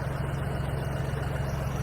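A tractor engine idles nearby with a steady, low, even throb and no other sounds.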